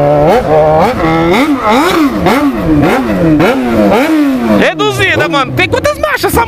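A Yamaha XJ6 motorcycle engine revs loud and close in a rapid series of rising and falling blips, then climbs and drops through the gears with sharper bursts at the end.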